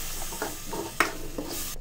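A spoon stirs cashew-onion paste into a simmering beef stew, giving a few soft wet scrapes and one sharper clink over a low background sizzle, with no talking.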